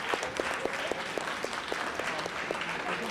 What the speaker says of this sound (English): can we give Tyler a round of applause?